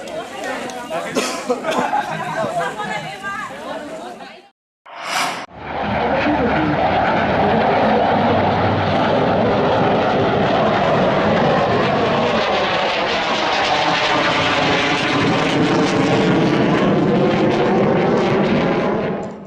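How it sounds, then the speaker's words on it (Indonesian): Air force fighter jets roar loudly overhead during a military exercise, a sustained sweeping rumble after a brief stretch of chatter and a short gap of silence. "Sejumlah pesawat jet tempur milik TNI Angkatan Udara berputar-putar di langit mengincar sasaran"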